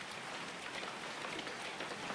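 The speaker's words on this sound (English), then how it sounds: "we're getting some pretty decent hail here" Hail pelting a car during a severe storm, a dense, steady patter of many small impacts forming a continuous hiss with no voices over it.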